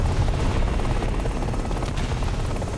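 A helicopter flies in a video game, its rotor throbbing as a loud, dense, continuous low rumble with a steady chop, close and unbroken throughout with no voices over it.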